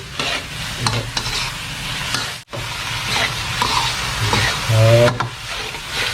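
Minced pork stir-fried dry in a hot pan with pounded garlic and black pepper for pad kaprao: loud, continuous sizzling with stirring and scraping and a brief pause midway.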